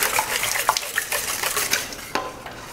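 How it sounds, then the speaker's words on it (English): Milk whisked into eggs in a bowl, with quick, steady scraping and light clinking of the whisk against the bowl, close and moderately loud, and no talking. "we're going to whisk in 1 cup of milk, all together with those eggs."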